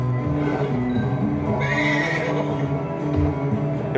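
A horse in Red Dead Redemption 2 lets out a loud, drawn-out whinny over a game scene, with people talking over it.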